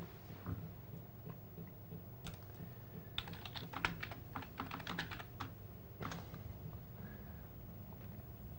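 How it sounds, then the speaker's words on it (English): Rapid bursts of keyboard typing, quick clustered key taps with short pauses, fairly close, over a low background hum. "If you hear tapping, it's Michelle fiendishly typing into the chat box"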